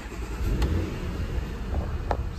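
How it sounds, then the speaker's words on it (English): A Porsche Cayenne fitted with a new fuse and an AGM stop/start battery in place of its lithium one is started, a dense rumbling engine noise that holds steady with a couple of small clicks. "now we're gonna start the Porsche Cayenne."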